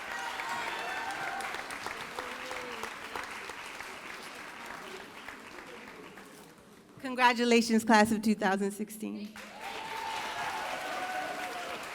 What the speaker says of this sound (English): Please, another round of applause for Noemi Soria